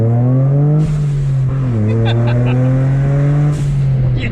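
A Toyota GR Corolla, modified and with all-wheel drive, pulls away from a stop. The engine drone is loud and close and holds steady through the pull.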